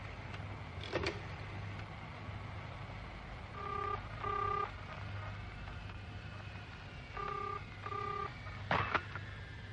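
Touch-tone telephone dialed from a phone booth in an airport terminal building: two short pairs of beeping keypad tones, alone over a steady background hum with a couple of clicks from the handset.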